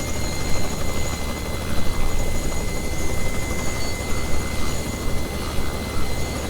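Robinson R66 turbine helicopter engine winding down with the throttle closed, a steady broadband whine and rumble holding fairly loud and even throughout, with faint tonal lines above the wash.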